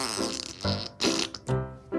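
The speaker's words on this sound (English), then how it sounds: "I wonder if I can fart really loud." A loud fart comes in several short bursts, each a buzzy blast with brief pauses between them.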